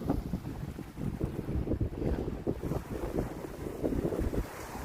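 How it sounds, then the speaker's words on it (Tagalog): Steady breeze rushing over open water at low tide during dragon boat paddling, with a low rumbling buffet and the soft wash of waves throughout. "Simoy na hangin, kalmado."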